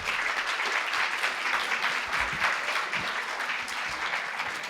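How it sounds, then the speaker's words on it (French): Steady, dense applause from an audience, continuous clapping at an even level throughout with no voices over it. "Alors, on peut les applaudir,"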